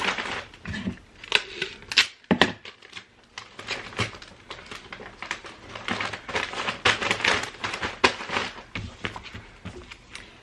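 Packing tape crackles and rips in quick bursts as extra strips are pressed over the ends of a Tyvek shipping envelope, close and fairly loud with brief irregular pauses.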